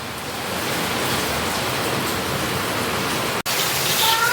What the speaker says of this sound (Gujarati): તો વરસાદ તો બહુ જામી ગયો